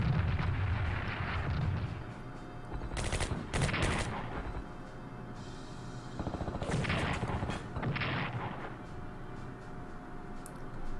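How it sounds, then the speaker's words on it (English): Artillery fires in the Strategic Command World at War strategy game, with bursts of booming and crackling gunfire in several waves over a rumbling background, loud and close, no talking. "Chinese artillery firing"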